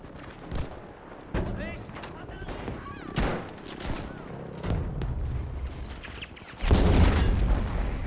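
Battlefield V gameplay: rapid bursts of gunfire and heavy booms from a bomb drop, with a loud rumbling blast near the end, while a player talks over the action.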